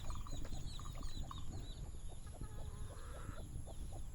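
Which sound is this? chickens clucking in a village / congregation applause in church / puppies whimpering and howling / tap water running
chickens clucking in a village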